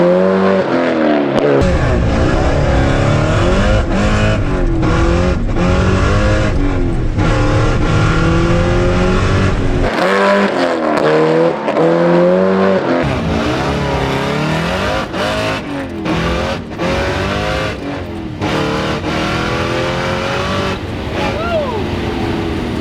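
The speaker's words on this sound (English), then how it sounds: "I drove the Hellcat Swap Viper and went for the ride of my life" A Hellcat-swapped Dodge Viper roars hard down an eighth-mile drag strip, its engine loud and near with rising revs, brief drops between gear changes, and speech mixed in.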